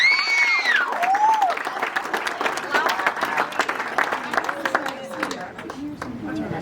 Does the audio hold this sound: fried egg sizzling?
no